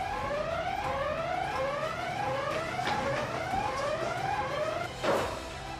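A fire station alarm sounds in repeated rising whoops, about one per second, loud and steady, with a brief thump near the end.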